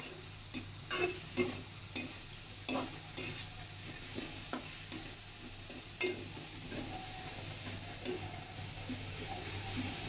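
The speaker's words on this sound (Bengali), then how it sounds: "আস্তে আস্তে পেঁয়াজটাকে ভাজি করব।" Onions fry slowly in a pan with a soft, continuous sizzle while a spatula scrapes and taps against the metal in regular strokes, close up and fairly quiet, with no talking.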